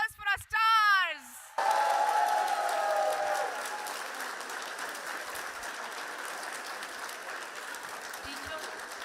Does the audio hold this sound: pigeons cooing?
no